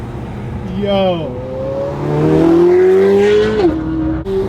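A supercar engine blips and revs on a downshift, its pitch sweeping down then climbing and holding before dropping again, loud and close, with a short exclamation from a person over it.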